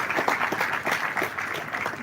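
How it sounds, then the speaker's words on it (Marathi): Audience applause fills a hall at a large job fair event, a dense, steady wash of many hands clapping together for the full two seconds with no talk over it. "आपण टाळ्या वाजून त्यांचं सुद्धा या ठिकाणी अभिनंदन करावं"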